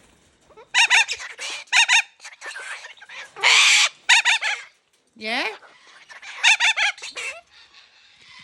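Pink-headed birds squawk and cluck excitedly after a hawk visit, in loud harsh bursts with short pauses between them, close by, with a brief spoken word.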